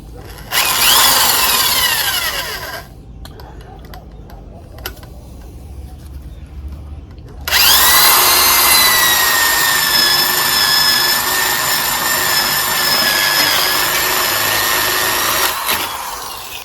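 A power drill bores a hole through half-inch PVC pipe with a 7/8 inch bit. It whines loudly at first, pauses in a quieter gap, then runs again in a long, steady, high-pitched stretch.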